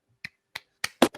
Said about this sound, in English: I'm holding my phone, but I'm clapping